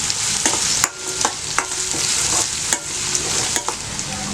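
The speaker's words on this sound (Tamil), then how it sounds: "இப்போ வெங்காயம் நல்லா வதங்கிடுச்சு" Onions sautéing over medium flame for wheat rava upma, a constant bright sizzle near the pan with regular sharp scrapes and knocks of a spoon stirring them, no one speaking.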